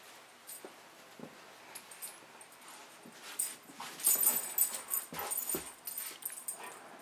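A German Shorthaired Pointer plays roughly with a Chihuahua puppy, with soft yips, whimpers and scuffling that start quiet and become busier and louder in the second half, with no talking.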